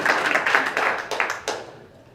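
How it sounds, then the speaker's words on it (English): Audience at a candidate forum clapping by hand, a short, sparse round of claps near and fairly loud that thins out and fades within about two seconds. "I thought for sure I'd get a hand clap right there. There we go."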